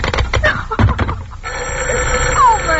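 An old-fashioned telephone bell rings in short bursts in a 1944 radio mystery drama, followed by a sustained tone on the line.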